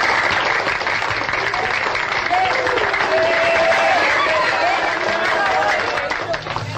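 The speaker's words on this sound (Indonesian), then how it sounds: "Tepuk tangan." A quiz show studio audience claps steadily in a dense, sustained wash of applause, with murmuring voices mixed in throughout.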